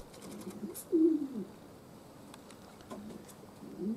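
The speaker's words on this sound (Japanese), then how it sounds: "厩舎の周り鳩順調に、旋回してます。" Soft coos of racing pigeons circling a loft rise and fall a few times against quiet outdoor background, with faint flutters in between.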